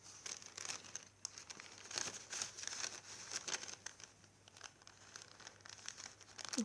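Sheets of paper crumpled and crinkled by hand while making a junk journal insert, a run of soft close rustling bursts with no talking.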